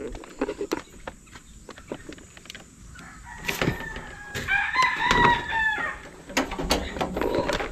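Tethered gamefowl roosters crow during the offseason, one long crow rising clearly at mid-distance amid scattered clucks, rustling and background clatter.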